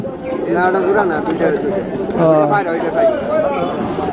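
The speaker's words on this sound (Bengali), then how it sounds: "এখানে অসংখ্য কবুতর আছে" Pigeons coo in soft, repeated calls beneath steady crowd chatter and nearby talking voices at a large pigeon market in Tangail.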